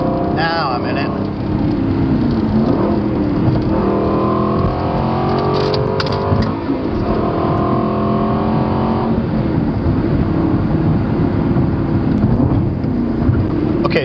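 An Aston Martin V8 Vantage engine drones steadily while driving, holding a sustained mid-pitched note that rises and eases slightly, loud and close throughout with no talking.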